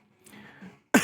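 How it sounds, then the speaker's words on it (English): A single sharp, close cough bursts out at the very end after a stretch of faint room noise, loud and abrupt. "I'm sorry for the cough."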